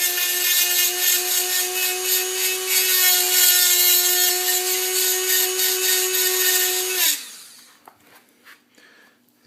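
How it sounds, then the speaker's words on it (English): Dremel rotary tool cutting into a Mauser rifle stock, a loud steady high-pitched whine with grinding for about seven seconds, then winding down and stopping, leaving faint handling clicks. "I was worried that this Dremel might actually not be enough, but seems like it's doing okay"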